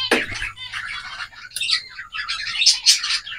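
Pet finches chirp at close range in quick bright bursts, several calls overlapping in busy irregular clusters with short pauses between, no voices heard.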